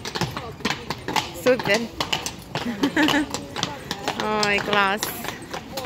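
Horse hooves clip-clopping on a street in Kraków, Poland, a rhythmic clatter passing at moderate distance beneath steady conversation and exclamations from women nearby.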